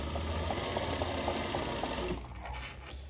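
A sewing machine runs a straight stitch close to the edge of rolled fabric, its rapid even whir lasting about two seconds before it stops abruptly, near and alone with no talk.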